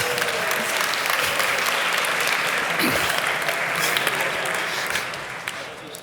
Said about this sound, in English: Applause before I even said something about Git.